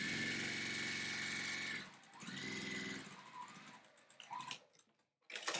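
A sewing machine stitches quilt strips for a plaid nine-patch quilt, its steady close mechanical whir running for a couple of seconds, then restarting in shorter bursts with brief pauses and taps.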